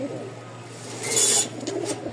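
Domestic pigeons kept for sale in a loft in Mirpur give low, soft cooing over steady background hum, with a brief brighter rustle midway.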